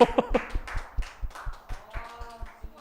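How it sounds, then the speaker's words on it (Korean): Brief scattered clapping from a small church youth-service congregation, a handful of sharp hand claps in loose rhythm with faint voices and a chuckle mixed in. "잠깐 박수로"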